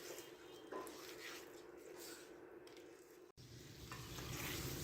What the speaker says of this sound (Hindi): अब यहाँ पर हम इसकी भुनाई करेंगे।